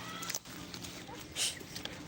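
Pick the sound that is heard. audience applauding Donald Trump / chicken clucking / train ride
chicken clucking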